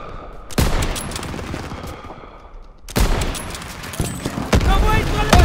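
Suppressive gunfire in a war video game, with loud sharp bursts of shots and booms striking at intervals, some volleys clustered together, while voices shout under the noise.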